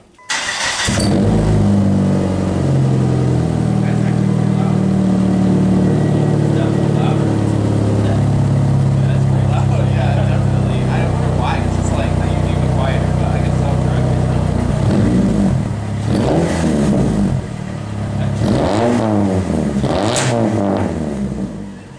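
A naturally aspirated PT Cruiser with a straight-piped exhaust revs loudly and continuously, its raw engine note rising and falling through several blips over about twenty seconds, close to the listener.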